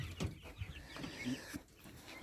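Large young chickens kept in an unheated veranda brooder give soft, scattered clucks and chirps at close range, quiet and intermittent.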